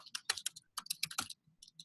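Rapid, uneven clicking of a computer keyboard as someone types an entry, with short bursts of keystrokes and brief pauses, close and fairly quiet, with no talking.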